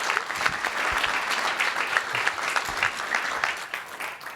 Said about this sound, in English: I think the audience should give you a big round of applause.